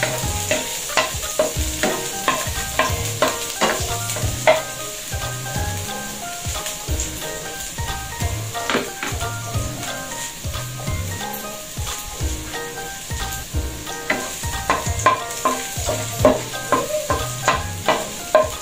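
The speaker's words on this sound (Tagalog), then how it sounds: "Ilagay na natin ang bawang. Natin lang papulahin." Garlic fries in a pan with busy, spattering crackle and repeated scraping stirs in an uneven rhythm, close and fairly loud throughout with no voices.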